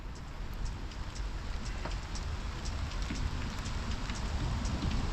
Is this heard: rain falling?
yes